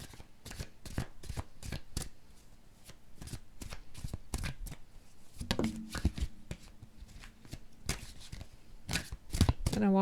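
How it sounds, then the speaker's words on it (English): Tarot cards shuffled by hand in quick uneven bursts of riffling and slapping, close and clear, with a voice speaking faintly in between. "I don't know why I can't shuffle."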